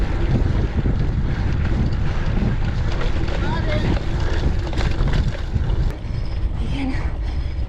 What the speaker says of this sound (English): It's the headwind, it's not like you've never seen that before.